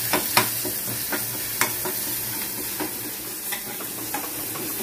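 Okra curry with red masala and sabzi masala is stirred in a pan over a soft, steady sizzle, with a handful of spoon scrapes and taps spread across the clip and no talking.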